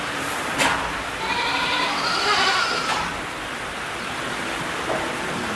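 Black goats at a Haenam goat farm bleat several times over a steady hiss of background noise, with a few nearby calls overlapping in the first half and no speech.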